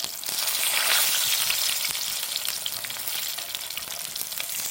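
Shorty shells sizzle in a cast iron skillet over an open fire, a steady, close, bright frying hiss that swells slightly and then holds evenly with scattered crackles throughout.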